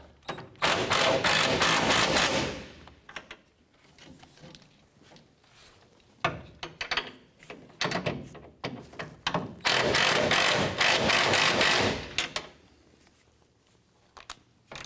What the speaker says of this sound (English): We're going to use our wrench and our ratchet on the forward mounted bumper bolt here.